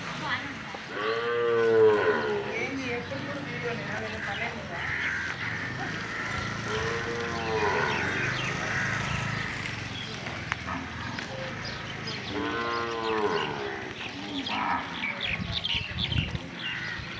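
Large white cows moo three times, each a long, loud low call spaced several seconds apart, with people talking nearby throughout.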